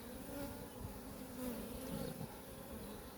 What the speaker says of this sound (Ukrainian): Бачу сіренької, верніше мохнатої бджоли багато, молодої.